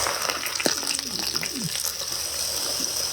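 Chicken sizzles in a hot pan, giving a steady, close frying hiss that runs the whole time, with a brief low voice near the start.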